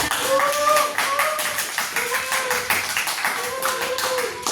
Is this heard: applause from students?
yes